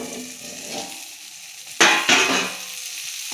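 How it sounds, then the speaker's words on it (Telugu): Egg fried rice sizzling in a pan, a steady close hiss that jumps sharply louder twice as the pan is stirred or the lid is moved, then holds a bright crackling fry with no voices. "బాగా ఫ్రై చేసుకుందాం."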